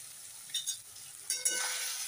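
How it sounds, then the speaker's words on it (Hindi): Soybeans frying in hot oil in a kadhai over lowered gas heat: a steady close sizzle with a few brief stirring scrapes, no talking. "तो हम 3 से 4 मिनट तक फ्राई करेंगे दोस्तों अच्छी तरीके से।"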